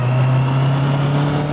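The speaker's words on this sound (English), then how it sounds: "That's the magic power of the inline 4 engine, right?" An inline four-cylinder car engine hums low and steady at low revs, a smooth, continuous drone heard from inside while cruising through autumn city streets, with no talking.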